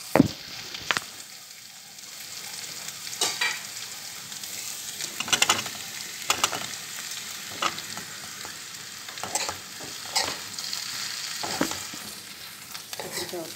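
Brinjal frying with sautéed onions in oil, a steady close sizzle broken by repeated sharp spatula scrapes and stirring knocks against the pan, with no talk.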